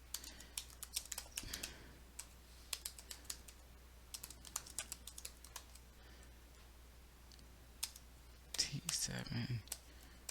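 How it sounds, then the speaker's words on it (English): Computer keyboard keys tapped at a desk during a cybersecurity challenge, uneven bursts of light clicks with pauses between, fairly quiet over a steady low hum, with some louder handling noise near the end. "Okay, I'm gonna have to type it."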